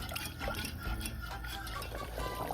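Cornstarch and water slurry poured into hot short-rib gravy in a pan, giving a steady close liquid pouring and stirring wash with faint utensil clinks.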